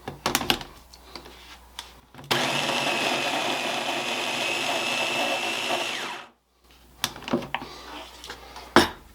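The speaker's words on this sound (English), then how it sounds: "we're going to zap this until the butter's chopped up" A food processor blends butter in one steady, loud burst of about four seconds, a dense whirring roar that starts and stops sharply, with clattering handling noises before and after it.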